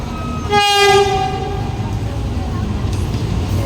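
A train horn blares loudly for about a second, followed by the steady rumble of a train rolling close by through the Khlong Tan railway market in Thailand.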